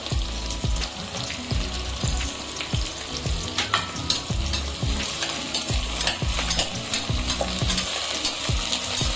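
Mutton sizzles loudly in a pan while mint leaves go in, a dense continuous frying hiss with scraping stir strokes throughout, close and without talk.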